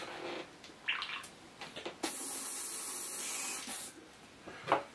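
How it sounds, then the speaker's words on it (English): An airbrush sprays out the last of a pale paint mix while being cleaned: a steady, close hiss of about two seconds, with a few short spurts and puffs before and after. "From my airbrush."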